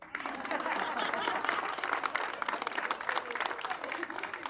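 Outdoor crowd applause at a municipal agreement signing in front of a town hall, a steady dense patter of many hands clapping together throughout, fairly even and sustained.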